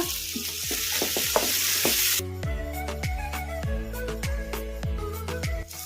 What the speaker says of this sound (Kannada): ಒಣಮೆಣಸಿನ್ಕಾಯಿ ಧನಿಯಾ ಎಲ್ಲನೂ ಫ್ರೈ ಮಾಡಿ ಇಟ್ಕೊಂಡಿದ್ವಲ್ಲ ಇವನ್ನು ಇದ್ರಾಗೆ ಹಾಕ್ಬಿಡೋಣ ಕಲಿಸ್ಕೊಂಬಿಡೋಣ